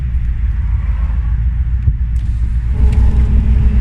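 A car rumbles at low revs from inside the cabin as it eases back into traffic, a steady deep engine and road drone that swells slightly near the end, with no speech.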